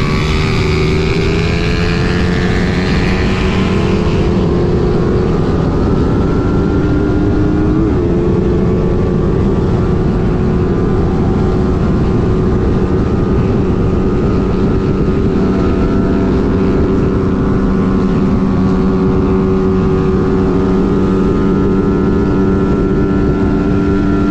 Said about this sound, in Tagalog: Tingnan natin kung gaano kalakas yung motor ni J-Mags. Kung makakasabay ba talaga sa Raider FI